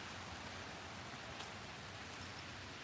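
Rain falls steadily outdoors in Alaska, producing a soft, even hiss of drops with a faint, constant rushing texture and no other clear sounds.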